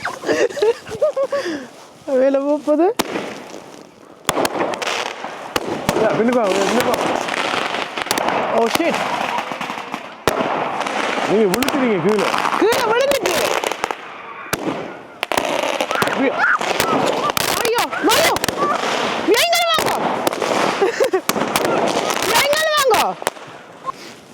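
Firecrackers burst in a rapid, irregular series of loud pops and crackles, nearby and continuous throughout. People talk and shout over the explosions.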